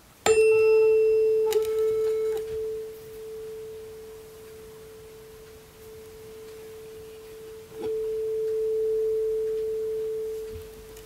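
A 440 Hz tuning fork rings as a steady pure tone, struck sharply at the start, with further light taps partway through, sustaining evenly and fading slightly between strikes with no voices.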